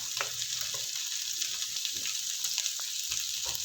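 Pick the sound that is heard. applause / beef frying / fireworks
beef frying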